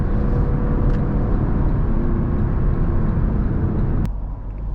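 Lexus LC500 2020 with a 475 hp engine and 10-speed automatic heard from inside while driving, a loud steady engine drone and road rumble that drops suddenly near the end as if easing off.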